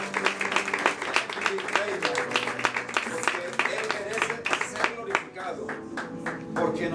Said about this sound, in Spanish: le demos un aplauso al Señor